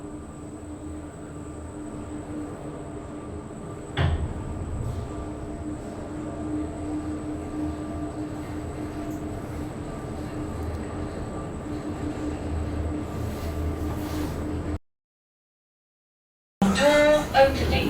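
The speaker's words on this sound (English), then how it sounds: "Lift is going down." A passenger lift descending in a Stoke-on-Trent city centre building, rated for 33 persons and 2500 kilos and replaced in 2018, gives a steady low mechanical hum and rumble with a brief knock partway through, ending in a short silence.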